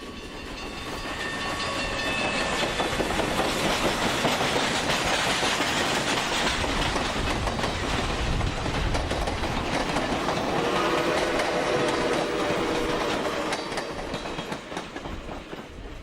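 Santa train rolling along the tracks, a dense rumbling clatter that swells in, stays loud and steady, then eases off near the end.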